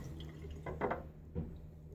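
Water running briefly as a safety razor (Blackland Sabre) is rinsed during a shave, a couple of short splashing bursts over a quiet background hum.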